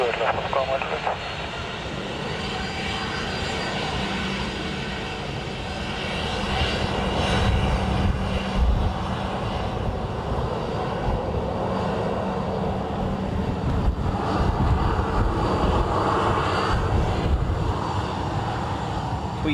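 A Netherlands Air Force C-130 turboprop lands at Dublin Airport, its loud, steady engine roar droning throughout and swelling midway as it passes close, with faint voices and radio chatter beneath.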